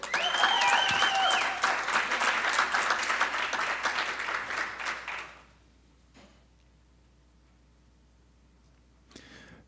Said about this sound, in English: A big round of applause for Jeffrey Rangel.